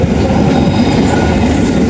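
About ten Pangrango passenger carriages on the Bogor–Sukabumi line roll by up close, a loud continuous rumble with rhythmic clickety-clack of wheels over rail joints and a faint squeal, with no voices.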